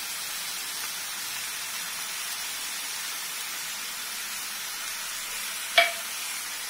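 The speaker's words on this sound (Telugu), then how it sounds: "మెల్లగా కలుపుకోవాలి." A pot of fish and raw mango curry simmers with a steady soft sizzling hiss, joined near the end by a single brief clink of a utensil against the pot.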